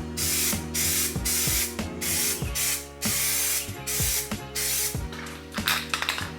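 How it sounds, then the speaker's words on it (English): Self-etching primer hisses from a rattle can in a series of short, loud spray bursts with brief pauses between them, close up and alone, with a faint click of the nozzle. "Self-etching primer. When you spray this on, you don't want it thick at all."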